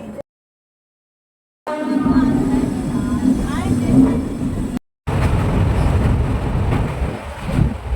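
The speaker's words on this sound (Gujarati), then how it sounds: "સ્ટાર્ટ થઈ ગઈ છે ટ્રેન" A train rumbles along loudly and continuously, with a steady low drone, rattling and faint squealing of wheels, heard from inside.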